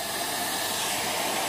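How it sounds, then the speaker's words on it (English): Hairdryer blasting on its first setting, a steady close airy whoosh with a constant motor hum, loud and unbroken with no talking. "And I am just going to blast with the hairdryer."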